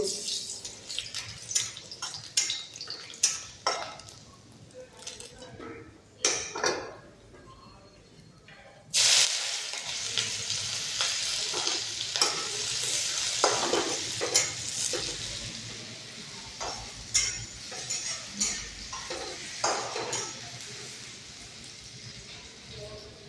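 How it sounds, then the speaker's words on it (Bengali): Onion and chillies frying in a pan for mashed potato, a steady close sizzle with repeated scraping stirs of a spatula, jumping louder and denser about halfway through as the hiss fills out. "আলু মাখার জন্য পেঁয়াজ লঙ্কা ভেজে দেবো"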